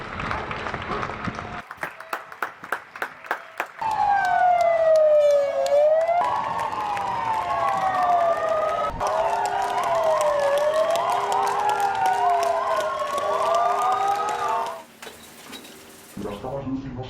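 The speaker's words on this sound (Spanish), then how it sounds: "todos salíamos a las terrazas y balcones a aplaudir a los sanitarios" Neighbours on terraces and balconies across Madrid applaud health workers during the pandemic, steady distant clapping under wailing police sirens and faint birdsong, with voices talking over parts of it.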